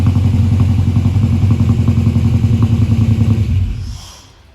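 Fuel-injected 304 V8 in a Heritage Recreations VR Clubsport, idling loud and steady close by with a lumpy, throbbing rhythm, then shut off so the rumble dies away over the last second.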